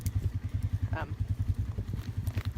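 A side-by-side utility vehicle engine idles with a steady, rapid putter like a motorcycle, continuing throughout with a brief clatter midway.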